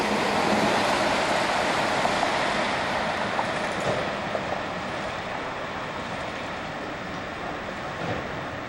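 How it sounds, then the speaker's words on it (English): A Canadian Pacific freight train rumbles past near a plant at night, a steady broadband roar of rolling wagons that stays loud and then eases slightly toward the end, with no talking. "but there's a train."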